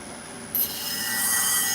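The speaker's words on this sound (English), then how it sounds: "I'm gonna sharpen the cutter again." A clipper blade cutter is sharpened on a grinding surface, a close, continuous abrasive rubbing hiss that steps up sharply after a brief scrape and holds steady to the end.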